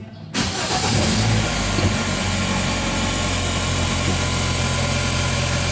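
An automatic car's worn engine starts and settles into a rough idle with heavy vibration, a loud steady low rumble that holds throughout with no talking.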